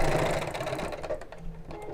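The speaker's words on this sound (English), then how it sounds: "Carry on sewing." A sewing machine stitches a zip into fabric, a fast steady mechanical whirr and chatter running close and loud throughout, slowing slightly near the end.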